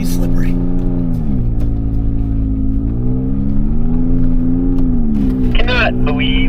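A truck engine drones steadily from inside the cab as it drives on snow in very cold weather, its pitch rising and falling gently with the throttle, with a brief voice near the end.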